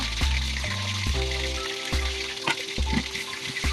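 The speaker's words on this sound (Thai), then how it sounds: "ตั้งกระทะรอให้น้ำมันร้อน น้ำปลาลงไปทอดได้เลยนะคะ" Fish frying in hot oil over medium heat, a steady sizzle with crackles and pops, close up, along with intermittent kitchen clatter and low hum.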